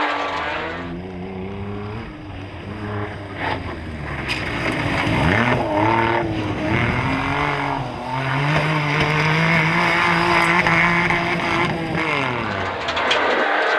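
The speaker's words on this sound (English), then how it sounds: "Just watching Chris left foot brake his way around these tyres" A rally car being left-foot braked sideways around tight tyre barriers on a special stage, its engine droning and wavering in pitch as the revs rise and fall, loud and continuous throughout.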